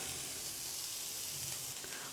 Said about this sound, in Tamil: வெங்காயம் சேர்த்து லைட்டாக ஒரு வதக்கு வதக்கி விடுங்க